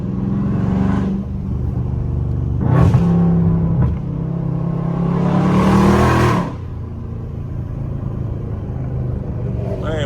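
A loud Dodge Scat Pack muscle car revving on a neighborhood street, deep rumbling engine with several rising throttle blips over steady idle, close and prominent, with some talk underneath.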